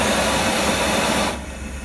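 Wok burner flame roaring, a loud steady broadband rush of gas that drops abruptly to a quieter idle hiss near the end.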